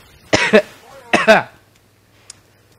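Two sharp, close coughs in quick succession, each a pair of harsh bursts, followed by quiet.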